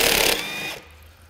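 A ratchet turns a bolt biter socket during a Honda Element engine replacement, making a loud, quick burst of clicking that slows and fades into a quiet mechanical hum.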